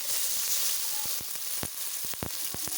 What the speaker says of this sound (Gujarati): રાઈ અને લસણ સરખી રીતે પાકી જાય પછી તેમાં આપણે ડુંગળી નાખી દેવાની છે।